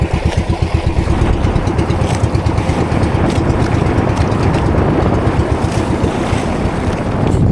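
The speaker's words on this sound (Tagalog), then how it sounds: "Nalunod na naman yung makina natin mga amigo." A small fishing boat's engine runs at sea with a loud, steady low throb close by, mixed with heavy wind noise and the wash of waves throughout.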